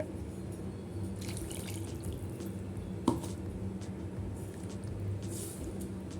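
Water poured into a pot of Tamil-style egg curry (muttai kulambu) gives a soft, steady trickling splash with a light plop partway through, faint and continuous under a low background hum.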